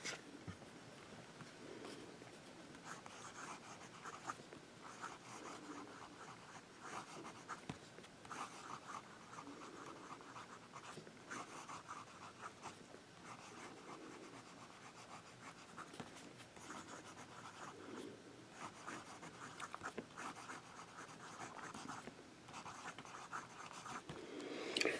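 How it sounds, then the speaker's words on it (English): A Noodler's fountain pen with a wet nib writes on paper, giving faint, close scratchy strokes in short irregular bursts over a quiet room. "So, we'll do a writing sample next."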